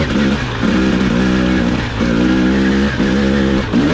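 A 2021 Husqvarna TX300i two-stroke dirt bike engine drones loudly and close on a rocky chalk trail, its steady grunting note rising and falling in several throttle surges.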